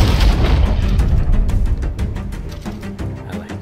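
Explosive ammo shots and blasts in Red Dead Redemption 2 Online: a heavy booming explosion up front, followed by a rapid series of sharp, loud shots that gradually fade, with no talking.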